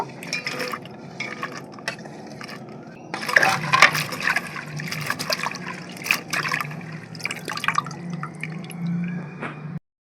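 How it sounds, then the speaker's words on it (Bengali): Long green chillies being rinsed in water, with steady dripping and trickling throughout and a busier burst of splashing and handling in the middle, close and moderately loud with no talking. "তা কাঁচা লঙ্কাগুলো আমি ভালো করে ধুয়ে নেব"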